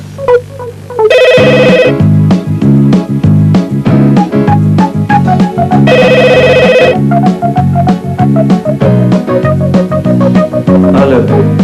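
A bright, melodic ringtone plays loud and repeating over a steady electronic beat, continuing without pause for several seconds.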